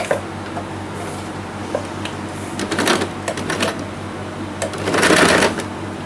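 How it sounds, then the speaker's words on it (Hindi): A domestic sewing machine runs stitching gathered pleats on a small Laddoo Gopal dress in short bursts, with quick mechanical clatter that swells near the end, close and moderately loud. "इस तरह से बिठाते हुए इसको मैं एक सिलाई मार दूंगी"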